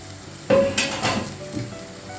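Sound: onions frying with salt in a pan

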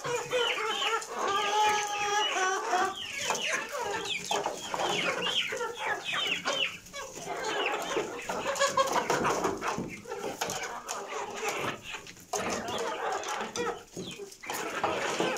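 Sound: hens and roosters clucking

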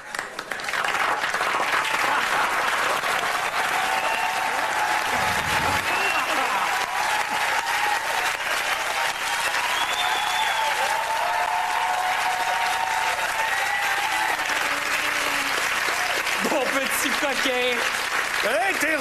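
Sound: studio audience applause

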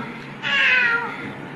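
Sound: child imitating a cat meow

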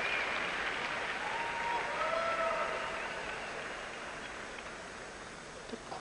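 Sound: audience applause at Olympic ice dance

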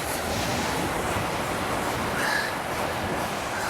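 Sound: North Sea waves at the Netherlands coast

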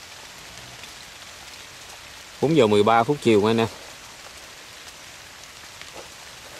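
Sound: rain falling

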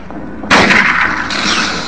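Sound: rifle gunfire in the video game Silent Hill

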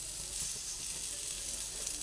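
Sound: eggplant frying in a dry pan

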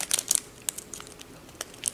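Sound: opening a crinkly glitter packet

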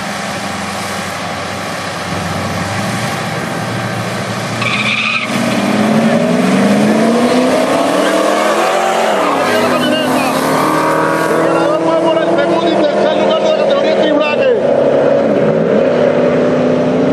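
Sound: race vehicles, a pickup truck, speeding down the drag strip

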